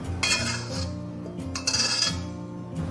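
Braised duck with perilla is scraped and scooped out of a wok onto a plate, giving a few loud metallic scrapes and clanks of a spatula against the pan, with no talking.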